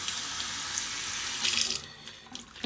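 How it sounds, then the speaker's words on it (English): Warm tap water runs hard into a sink over a towel, a close, steady faucet gush that shifts slightly near the end. "I'm going to run it with warm water."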